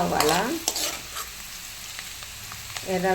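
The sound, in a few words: onions frying and being stirred in a pan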